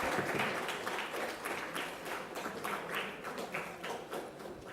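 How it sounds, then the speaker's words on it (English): An audience at a school National Science Day event applauds a prize winner, dense steady clapping from many hands that carries on throughout, moderately loud and without speech. "Please give him a big applause because he has scored the highest marks in for this event."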